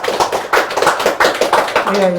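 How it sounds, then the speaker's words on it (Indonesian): A group bursts into loud, close hand clapping, a dense steady run of claps for about two seconds, with voices murmuring underneath. "ini mungkin karena habis makan ya, makanya kencang sekali tepuk tangannya"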